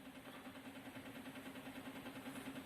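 Stepper motor driven by a Raspberry Pi through an L298N driver, running at a slowed step rate: a steady, faint mechanical hum with a soft rapid pulsing rhythm, continuous throughout with no talk.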